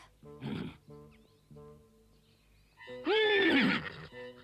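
A cartoon horse whinnies twice, a shorter call first and then a long, loud, trembling neigh, with low tonal music playing in between.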